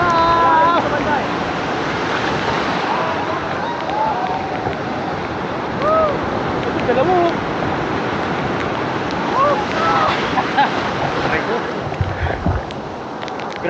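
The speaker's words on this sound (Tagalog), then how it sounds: "laki ng alon no!" Big ocean waves breaking and rushing up a shallow shore during a fishing and camping trip, a loud continuous wash of surf with wind buffeting the microphone, while people shout and call out over the water.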